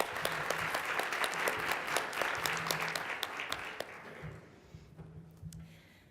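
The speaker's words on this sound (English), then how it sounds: "I just wanted to give another round of applause for Dr." An audience at an academic panel on social innovation and impact claps in a quick, scattered round of applause that thins out and fades after a few seconds.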